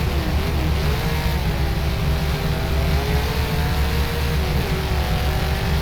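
Kiwi SuperStock race car in the rFactor racing game at Waikaraka Speedway, engine droning steadily and loudly with a rising, wavering pitch throughout, no voices over it.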